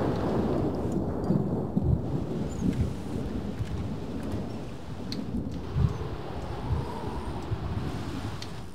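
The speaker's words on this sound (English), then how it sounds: "I'm pretty sure I'm gonna turn off rain real fast, because that's getting annoying." Steady rain and rolling thunder in The Sims 3, a dense wash of downpour with low rumbles and occasional cracks throughout, no voices.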